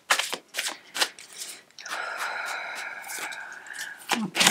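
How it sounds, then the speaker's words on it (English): A deck of cards being shuffled up close: quick riffling bursts, then a longer fluttering riffle, ending with a few more snaps. "I'm going to shuffle the cards until one turns or jumps out"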